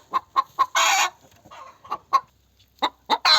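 A goose calls loudly after laying an egg in a series of short, rhythmic honking cackles, close up, with brief pauses between bursts.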